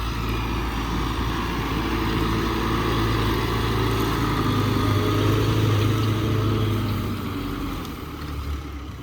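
An MTZ 892 tractor engine works steadily under load while ploughing stubble in April with a PLN 3.35 plough. The drone is continuous and fairly loud, close by, with a broad rumble and no talk.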